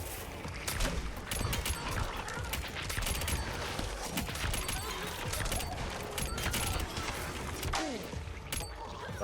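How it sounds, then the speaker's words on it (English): Explosions and combat noise from the video game LORT make a dense, continuous clatter of blasts, bangs and crackling impacts. The din is loud and unbroken for several seconds, with no clear pauses. "That explosion's bad"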